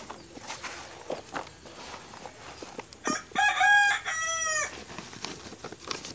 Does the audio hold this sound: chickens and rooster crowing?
yes